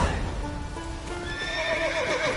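Horse from The Witcher 3 video game neighs in a short whinny while hooves clip-clop beneath it, close and brief with no talk.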